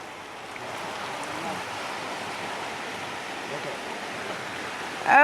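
Floodwater rushes steadily along a swollen stream after heavy rain, a continuous close roar of water that holds unbroken throughout.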